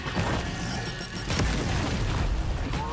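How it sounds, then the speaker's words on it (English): A grenade going off in a video game, a loud booming blast with a sharp crack midway amid rumbling low-end combat noise, without speech. "Throwing a grenade!"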